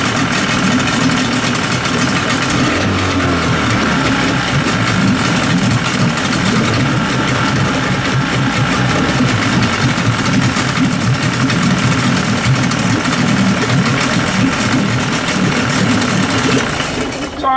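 Yamaha Enduro 40 HP outboard motor idling with the throttle turned all the way down, a steady, rough, pulsing low drone with a fast mechanical chatter that runs unbroken and close throughout.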